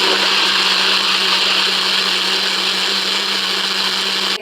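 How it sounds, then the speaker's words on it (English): A Magic Bullet blender whirring through peach puree, a loud continuous motor roar with a steady hum that holds evenly for several seconds before cutting off at the end. "we are transferring everything into the magic bullet"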